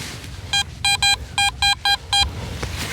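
A metal detector sweeping a field gives a string of about seven short, sharp electronic beeps in an uneven rhythm, close and loud over faint outdoor background noise.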